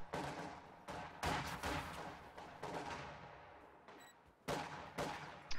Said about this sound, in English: Pioneers are making their way forward to fire on these conscripts.